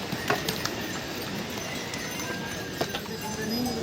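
Horses clip-clop steadily along a crowded mountain pilgrimage trail to Kedarnath, hooves striking in an uneven walking rhythm with a few sharper knocks, amid a busy background hum of people.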